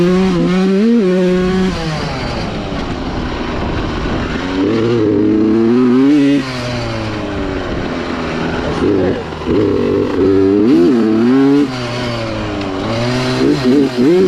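A Suzuki RM85 dirt bike engine runs steadily while being ridden, its harmonic drone rising and falling with throttle changes, with a person talking over it throughout.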